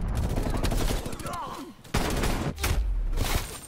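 Gunfire in a video game comes as fast, crackling volleys with a few sharp, loud reports standing out. Game effects and voices are mixed in, and it plays on throughout the short stretch.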